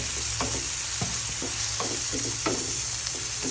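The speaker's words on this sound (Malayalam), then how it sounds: "പച്ചമുളക് ഇതെല്ലാം ചേർത്ത് വഴറ്റിയെടുക്കാം." Onions with green chillies sautéing in a pan for a prawn dish, a steady sizzle with regular scraping strokes of a spoon stirring, close and continuous, with no talking.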